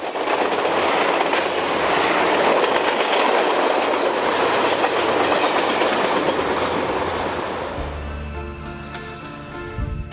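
A steam train rolls past on rails during a Frontier Days excursion to Cheyenne, with Rio Grande commuter cars in tow: a loud, broad roar with clicking wheels that fades into lower rumbling and faint squeals as the cars go by.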